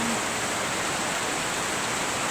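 Steady heavy rain falls as a dense, continuous broadband hiss that stays constant and fairly loud throughout, with no distinct drops or voices.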